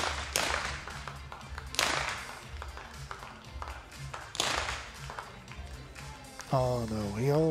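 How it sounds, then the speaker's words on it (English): At a shooting competition, spectators clap in scattered, sharp bursts rather than sustained applause, the claps spaced irregularly near the microphone while a commentator talks over them and a tonal voice rises near the end. "The audience already start clapping."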